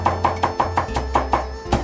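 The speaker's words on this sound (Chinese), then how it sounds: "大蒜用到剁成蒜末" Garlic minced with a knife on a cutting board for a Sichuan crucian carp dish: about ten quick, even chops in a steady rhythm, close and distinct, with no talking.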